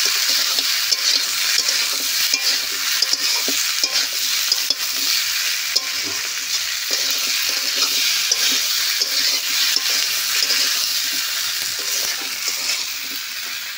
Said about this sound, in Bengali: আলুর সাথে ঝিঙেও বেশ ভালো করে কষে নেব।